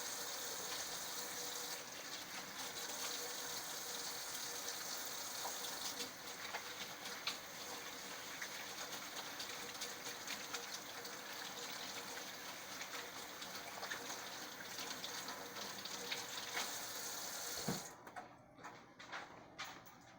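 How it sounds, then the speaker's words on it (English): Water runs steadily from a tap as hands are washed beneath it, a constant close splashing gush that continues unbroken before cutting off near the end, leaving a few quieter drips and handling sounds. "Now I'm going to wash my hands before I start prepping."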